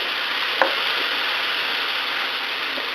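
Portobello mushrooms frying in a pan give a steady, close sizzle with a faint clink of a utensil early on, and no voices.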